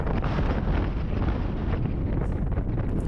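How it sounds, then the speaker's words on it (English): Heavy wind buffets the microphone during a group road cycling ride, a loud, constant low rumble with no break and no voices. "heavy wind."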